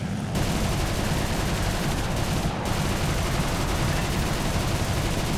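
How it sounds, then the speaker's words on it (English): Dense, continuous machine-gun fire from an Fw 190 A-8 fighter in War Thunder pours into a bomber, a loud, unbroken rattling roar of rapid shots and impacts with no pauses. "Look at this firepower. Just the hits falling into that bomber."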